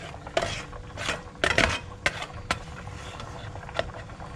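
A utensil scrapes and knocks against a pot while durian kinca mixture is stirred, a Betawi-style sweet sauce cooked loose with plenty of water; scattered clinks and scrapes come close up in a quiet kitchen, with no talk.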